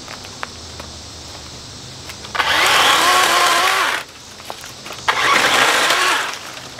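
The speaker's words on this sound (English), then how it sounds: "Definitely feels like an electric chainsaw." DeWalt battery-powered electric chainsaw revs up twice in short bursts, each a loud whining buzz lasting about one and a half seconds, separated by a quiet pause with faint background noise.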